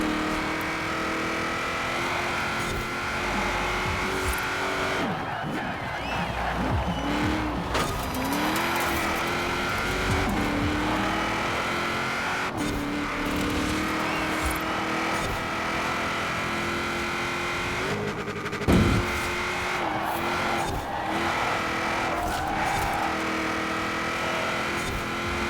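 A Studebaker Dream Roadster in Forza Horizon 4 drives steadily with a continuous engine drone, pitch rising and falling with shifts, and tires squealing intermittently as it corners and understeers, without talk.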